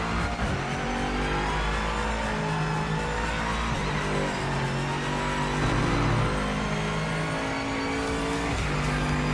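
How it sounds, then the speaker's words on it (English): A GT3 race car engine in a racing video game drones steadily with a loud, high gear whine shifting in pitch as it accelerates, continuous and close throughout. "it's obviously masked by the excessive gear whine"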